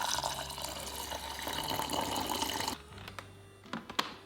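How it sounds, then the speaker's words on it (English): Water poured onto rinsed rice in a rice cooker pot, a steady broadband splashing pour for most of the clip, then stopping to leave a few small drips and clinks, close and alone. "After thoroughly rinsing the rice, transfer the rice to a rice cooker and pour in the water."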